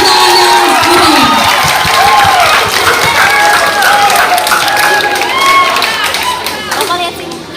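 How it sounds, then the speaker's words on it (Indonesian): Audience applause and cheering fill a school hall during a National Teachers' Day ceremony in Kalabahi, Alor: dense, steady clapping with scattered shouts and whistles, loud and close, lasting throughout before tapering slightly at the end. "Beri tepuk tangan yang meriah."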